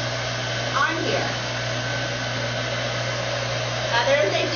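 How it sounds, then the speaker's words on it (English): A hair dryer blows steadily on shrink wrap, a constant close whooshing drone with a low electrical hum underneath and slight shifts as it moves. "My awesome hair dryer."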